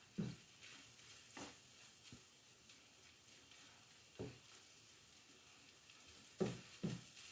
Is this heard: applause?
no